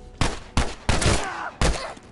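Gunfire in the video game The Last of Us: four sharp, loud bursts of shots, each with a short ringing decay, spaced irregularly over about two seconds, with no talking.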